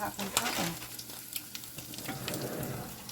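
Two eggs sizzle and pop as they fry in a pan for a turkey Spam, egg and cheese omelet, a steady crackling hiss with sharp spits throughout and no talking.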